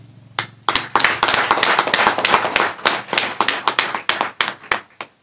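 An audience at an award ceremony in Benin's Atlantique department claps in a dense, sustained burst of applause. After a brief soft start it swells to a steady, loud patter that thins into more scattered claps toward the end.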